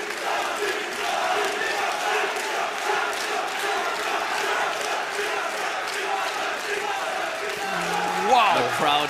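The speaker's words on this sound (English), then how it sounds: "The crowd is going absolutely wild right now." Large crowd at a Yu-Gi-Oh Championship Series final in London roars and cheers wildly after the match ends, a dense sustained wall of voices that swells near the end.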